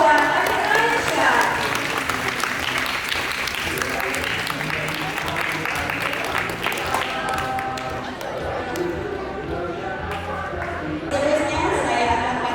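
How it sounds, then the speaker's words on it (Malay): A crowd applauds at a school Quran completion and award ceremony, sustained, even clapping from many people with some chatter mixed in, swelling again briefly near the end. "Sekali lagi beri tepukan yang gemuruh buat Adik Raisya."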